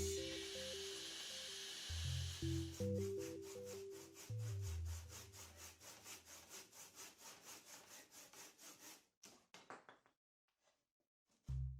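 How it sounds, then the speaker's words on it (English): A handsaw cuts through the side of a wooden tenon on a workbench in steady back-and-forth strokes, loud and close, rasping rhythmically before it slows and stops. "then I finished those cuts off with a handsaw"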